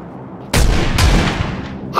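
Two close, loud gunshots in PUBG, each a sharp crack followed by a long booming tail that rings out and decays over about a second, the second shot landing before the first fully fades.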